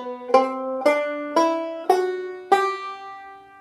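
Banjo picking a slow single-string scale exercise, five separate plucked notes stepping upward, each ringing bright and twangy before the next, close and alone.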